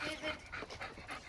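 A dog pants rapidly and whimpers close by in a setting with several other dogs, quick breathy puffs mixed with high thin whines over about a second.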